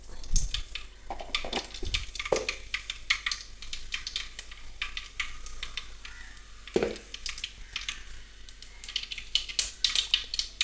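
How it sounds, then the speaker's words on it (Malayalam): Mustard seeds crackle and pop in hot oil in a pan while Kerala fish curry is cooked, a dense run of sharp little bursts with a few louder pops and scraping stirs, close up, no talk. "കടുക് പൊട്ടുന്നുണ്ട്."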